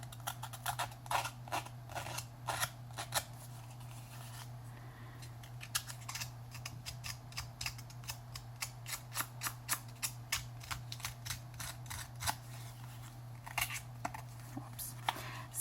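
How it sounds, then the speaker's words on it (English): Scissors snipping along the edge of a paper tag during paper distressing, a long run of quick, crisp close-up cuts in irregular bursts over a steady low hum, with no talking. "now I'm going to do the other side with my scissors"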